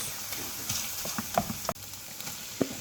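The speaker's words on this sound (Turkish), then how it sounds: "kıymamızı güzel bir şekilde kavuruyoruz" Ground meat in oil sizzles and crackles steadily in a hot pan, with occasional clicks and scrapes of stirring.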